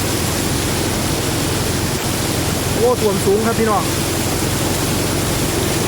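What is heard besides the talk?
strong floodwater flowing across a road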